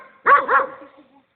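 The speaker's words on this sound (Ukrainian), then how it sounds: "Хто там гавкає?" A dachshund barks twice in quick succession, close and clear, then falls silent.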